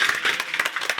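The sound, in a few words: audience applause at a political meeting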